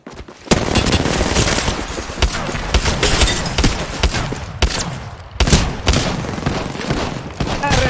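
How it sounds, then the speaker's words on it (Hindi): Enemy gunfire in a battle-royale shooter game, dense bursts and rapid shots rattling almost continuously, loud and close, with brief lulls and occasional thumps, voices faintly mixed in. "I'm getting shot."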